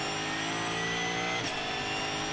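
A Corvette and a Lamborghini Huracan GT race car at the Red Bull Ring in the ADAC GT Masters give off a loud, continuous engine drone with steady high harmonics and a brief flare in pitch as one passes.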